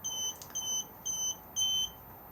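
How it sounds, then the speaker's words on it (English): A motorhome control panel in an Auto-Trail Imala 615 gives a warning beep with the engine off: four clear, high electronic beeps in an even rhythm, close and alone in a quiet interior. "if I do press this one, it will beep at us because we haven't got the engine running"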